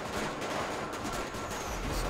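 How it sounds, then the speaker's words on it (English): Gunfire in GTA 5, a dense, continuous barrage of overlapping shots like a fusillade, loud and unbroken for the whole moment with no talk. "It's a lot of fire going on, man. A lot of gunfire, huh?"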